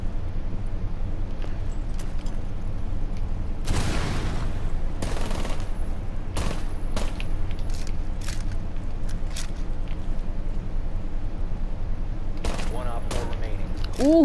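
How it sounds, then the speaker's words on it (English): Short bursts of tap-fired gunfire ring out in a 1v2 video game match over a steady, dense background of game sound, with scattered shots and a couple of heavier volleys near and far. "I'm trying to get better at tap firing this thing"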